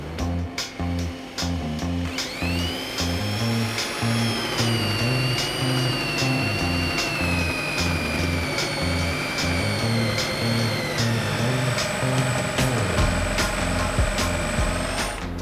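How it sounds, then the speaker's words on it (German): A power drill with a smaller bit whirs steadily into wood, its motor pitch wavering under load for several seconds before winding down near the end. "ich probiere mal mit dem kleineren Bohrer, einfach damit es mir nicht so ausreißt."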